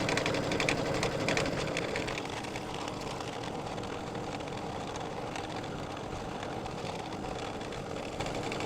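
An embroidery sewing machine stitching an in-the-hoop trapunto wall hanging, a steady rapid mechanical whirr with a fast needle rhythm, close and continuous without talk.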